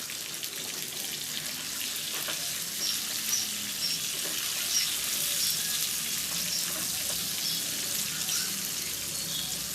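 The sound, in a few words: chicken frying in a pan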